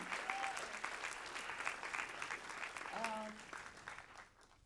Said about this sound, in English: Round of applause for Pasang.